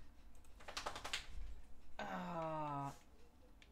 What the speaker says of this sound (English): I guess I'm using the keyboard.